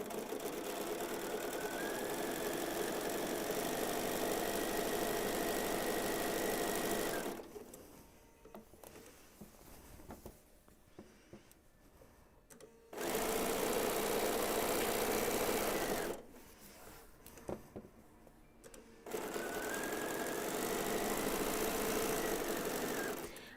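A sewing machine stitches quilt backing fabric in steady running bursts, a dense close mechanical whir that stops twice for several seconds of quiet handling before starting again.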